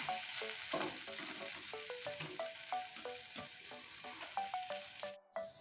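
Taro leaves (kochu shak) fry dry in a pan with a steady bright sizzle, while a spatula scrapes and stirs in regular clacking strokes; no talk, and the sound cuts off near the end.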